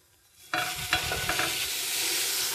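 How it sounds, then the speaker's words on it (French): Soaked vegan French toast bread lands in a very hot pan and erupts into a loud, close sizzle that holds steady, with a couple of brief scrapes as it settles. "Puis on la dépose sur une poêle bien chaude."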